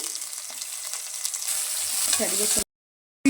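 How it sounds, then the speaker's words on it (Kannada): Onions sizzle and crackle in hot oil with garlic and peanuts, a close, steady frying hiss that stops abruptly near the end. "ಬೆಳ್ಳುಳ್ಳಿ ಸ್ವಲ್ಪ ಆದಮೇಲೆ ನೋಡಿ ಈರುಳ್ಳಿನ ಹಾಕ್ಕೊಳ್ಳಿ."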